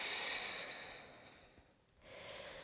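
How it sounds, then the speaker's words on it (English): A loud, breathy open-mouth exhale during a yoga flow, a long airy rush that fades gradually over about two seconds before a fresh breath begins near the end; no talking. "open mouth, exhale"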